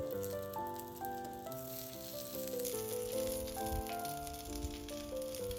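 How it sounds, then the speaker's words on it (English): Sausages sizzle and spit steadily on a hot plancha over medium-high heat, a soft continuous frying hiss beneath background music. "time to cook them over a medium to high temperature. I've fired up the plancha here"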